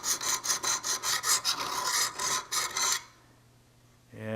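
Knife blade stroked on Wicked Edge sharpening stones, about a dozen brisk, even rasping strokes at close range, then quiet with a faint hum and a short final scrape.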